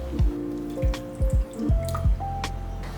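Water trickles into white sugar and malt syrup in a nonstick pan. Several separate drips and plops with rising, ringing tones sound over a steady background, with no voices.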